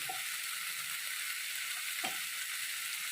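Tomatoes with turmeric and asafoetida sizzle steadily in a pan, a constant bright frying hiss with two faint scrapes of a spoon against the metal, no talking.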